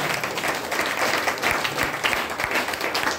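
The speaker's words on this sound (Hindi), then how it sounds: "इसके लिए एक जोरदार तालियां" An audience applauds, a steady wash of clapping from many hands that holds for a few seconds.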